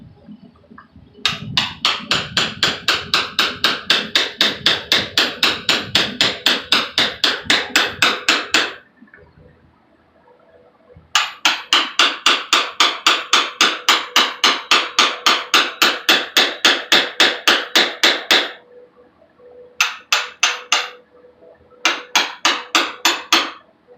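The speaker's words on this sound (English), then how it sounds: "I think this will be a disintegration through chiseling job." Steady rapid hammer-on-chisel blows chip apart a cheap low-mass foundry furnace, loud and close, in three bursts of fast even metallic strikes separated by short pauses.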